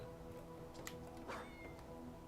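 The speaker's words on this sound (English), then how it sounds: "Hey, the cat." A cat meowing in the Metal Gear Rising DLC, set in a traditional Japanese garden: a brief, faint mew over steady low game ambience.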